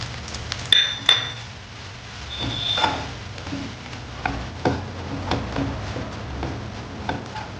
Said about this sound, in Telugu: ఇప్పుడు కొంచెం శనగపిండి వేసేసి కలిపేసేయండి